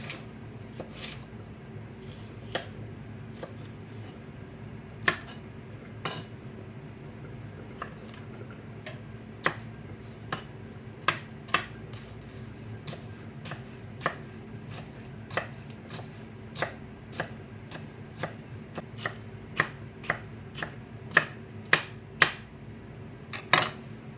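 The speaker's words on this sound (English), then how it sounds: "And you do the same thing with the peppers. Cut it in thin strips." Knife slicing peppers into thin strips on a cutting board, a run of crisp, sharp taps that starts sparse and quickens into denser, louder bursts over a faint background hum.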